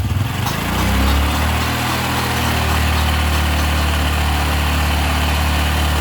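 A Honda Revo Fi motorcycle running with no battery fitted revs hard at full throttle, a loud and steady engine roar that holds close and constant without a break.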